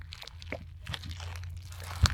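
A homemade DIY NeeDoh squishy stress ball gives off soft, faint crunching and crinkling as it is squeezed by hand, with one sharper crackle near the end, heard alone in a quiet room.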